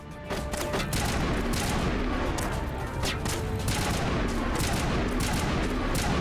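Rapid gunfire in the Mass Effect video game rattles out in dense, loud bursts of overlapping shots over a constant battle roar, with only brief gaps between volleys.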